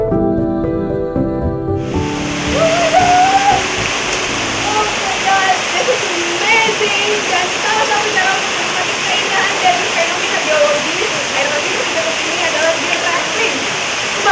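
Sri Gethuk waterfall in Gunung Sewu Geopark roars as a loud, steady rush of falling water that starts abruptly and continues without break, with faint voices under the noise.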